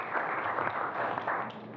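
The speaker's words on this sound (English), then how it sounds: "Can we have another round of applause for that?" An audience at a conference session applauds, a steady dense wash of clapping that fills the short moment without pause.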